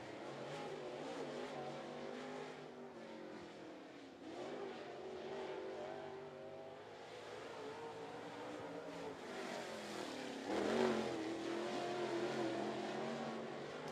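Race car engine roaring continuously around a speedway oval during a night race, a steady loud drone with a surge near the end, with a track announcer talking over it.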